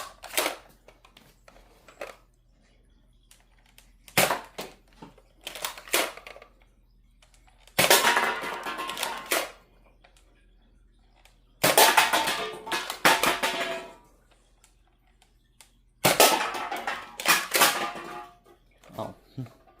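A toy Nerf Disruptor revolver blaster fires Nitro Shot darts in a series of sharp, loud pops and clattering bursts, grouped with short pauses between them; no talk is evident.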